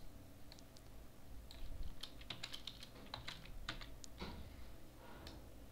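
Typing on a computer keyboard while entering a web address: a quick run of light, crisp key clicks at close range, irregular in rhythm, over a faint steady background hum.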